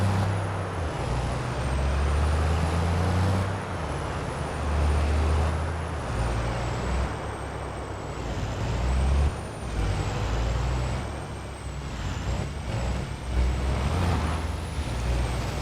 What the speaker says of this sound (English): the semi-truck doesn't like to go down here